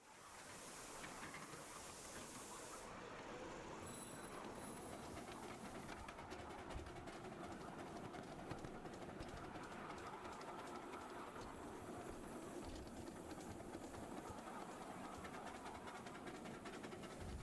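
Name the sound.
miniature Decauville steam locomotive train running on rails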